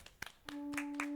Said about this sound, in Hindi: स्वागत करते हैं ढेर सारी तालियों के साथ